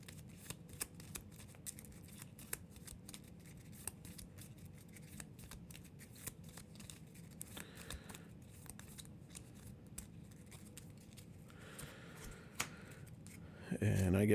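Dune Imperium playing cards are shuffled at a tabletop, giving a long run of soft, rapid riffling and flicking close by, with light taps and rustles continuing for several seconds.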